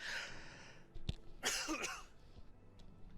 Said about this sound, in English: I tried not to cough in the microphone there